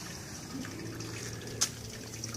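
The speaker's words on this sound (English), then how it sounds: "It's going to drain into the colander, into the pot rather, below the colander." Home-brew liquid draining through a colander into a pot below, a continuous soft trickle and splash with one brief sharper drip, close and fairly quiet.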